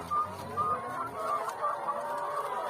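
Egg-laying chickens on a poultry farm cluck steadily nearby, a busy overlapping chorus of short clucks and murmurs, moderately loud.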